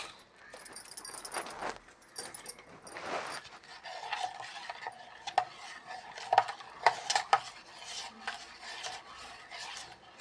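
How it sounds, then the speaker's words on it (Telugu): A spoon scrapes and clinks against a pot while jaggery and junnu powder are stirred into thick milk, irregular metallic taps and rubbing strokes, fairly close and with no talking. "బెల్లం కానీ జున్ను పౌడర్ కానీ ఎక్కడ ఉండలు లేకుండా కలుపుకోవాలి చిక్కటి పాలలో"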